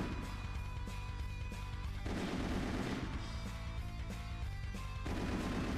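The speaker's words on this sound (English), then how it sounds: "We're just like killing these Chimera dragons at distance with the missiles." Missile launches and blasts from Zoids: Battle Legends on GameCube, fired at Chimera dragons from range: dense, continuous game audio with repeated punchy explosive bursts over a steady low rumble, a heavier impact cluster near the middle, no speech.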